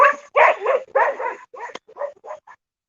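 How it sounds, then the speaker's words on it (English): Watch dogs on an off-grid homestead bark defensively at a passing car, a string of close, loud barks and yips in uneven bursts that fade to shorter, quieter calls. "those are the watch dogs"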